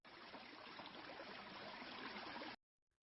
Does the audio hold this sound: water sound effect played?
yes